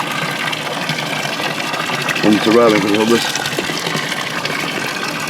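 Water is poured into a container holding a tough little fish, a steady wet splashing and trickling running under nearby talk.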